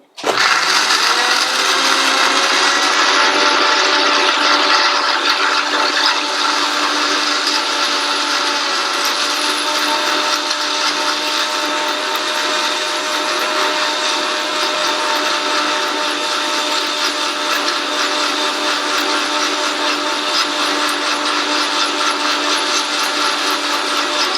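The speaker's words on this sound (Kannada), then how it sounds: "ಇದನ್ನು ಚೆನ್ನಾಗಿ ಗ್ರೈಂಡ್ ಮಾಡ್ಕೊತೀನಿ" A mixer grinder whirs steadily as it grinds carrot pudding ingredients with water, a loud, continuous high-pitched motor whine that starts abruptly and holds for the whole stretch with no talking over it.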